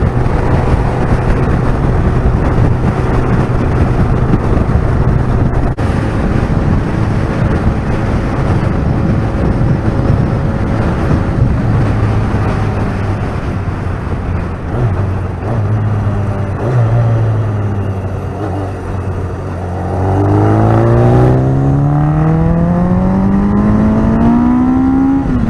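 A motorcycle engine revving hard and pulling through to 8,500 RPM, loud and close, its pitch holding steady, dipping briefly, then climbing sharply in a long rising sweep near the end.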